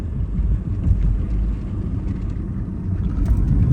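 A Mahindra XUV 3XO diesel automatic rolls down a hill road in fourth gear, giving a steady low rumble of engine and road noise inside the cabin that swells slightly near the end, with no talking.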